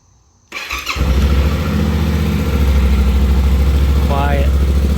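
Yamaha Tenere 700 motorcycle with stock exhaust cold-starting: a brief cranking whir, then the engine catches and settles into a steady, fairly quiet low idle, close by.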